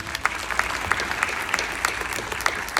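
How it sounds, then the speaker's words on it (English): A crowd at a science centre drone demonstration applauds, with many hands clapping in a steady wash and a few sharper, nearer claps standing out, moderately loud, no voices over it. "everyone, big round of applause"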